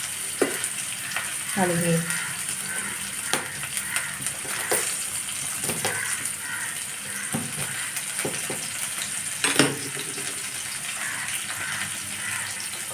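Thinly chopped onions sizzle in a pan with a steady, bright frying hiss, broken by occasional scraping and stirring knocks, while a voice briefly speaks.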